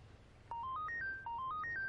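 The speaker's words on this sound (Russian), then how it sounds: "Телефон." A mobile phone ringtone plays a short rising melody of four stepped tones, repeated twice and heard clearly against a quiet room.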